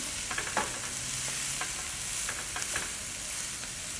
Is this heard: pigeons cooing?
no